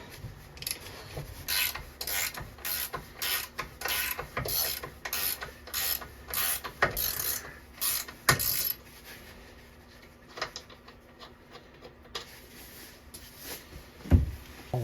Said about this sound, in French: Là, on va slacker au ratchet, puis on va le faire à la clé.